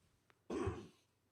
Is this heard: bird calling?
no